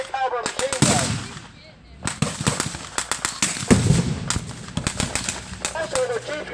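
Bursts of blank gunfire crackle at a WWII battle re-creation, including rapid rattling bursts from a Jeep-mounted 30 caliber machine gun, loud and sharp with echoing reports, while people talk in the background.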